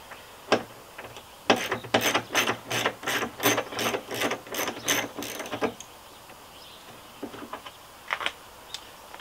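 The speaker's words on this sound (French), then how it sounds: "il nous faut maintenant démonter le phare. Donc douille de 8 longue." A ratchet with a long 8 mm socket turns screws on an Opel Corsa headlight, giving a close run of about a dozen rhythmic clicking bursts, with a few scattered clicks before and after.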